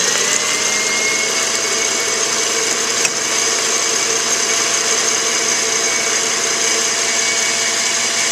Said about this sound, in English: Now we're going to beat this until it forms soft peaks.